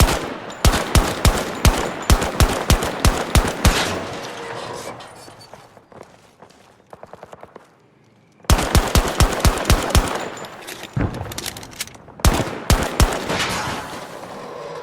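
Gunfire shooting at vehicle tires in Call of Duty Modern Warfare 2, loud rapid bursts of automatic shots in quick rhythmic volleys, pausing briefly before another string of close, punchy rounds, with no talk.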